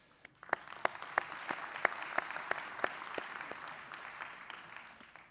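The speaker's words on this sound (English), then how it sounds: "this in itself deserves a huge round of applause" At a transport month launch event, a crowd breaks into applause that starts abruptly, holds steady with distinct claps, then tapers slightly toward the end; fairly quiet and distant.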